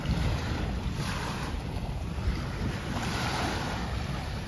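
Sea waves wash onto a beach near Kuwait City, a steady, close, loud roar of surf mixed with gusty wind buffeting the microphone, with no talking.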